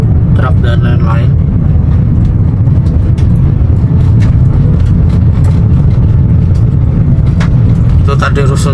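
Trucks and other vehicles rumble and drone continuously at a large construction site, a loud, low engine roar with passing-vehicle swells and occasional clatter, and a voice talking over it in places.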